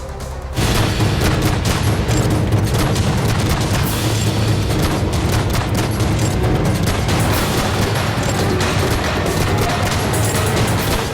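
Turkish air and artillery strikes on targets in Iraq and Syria: a dense, continuous barrage of booming blasts and rapid gunfire, loud and unbroken after a brief quiet start.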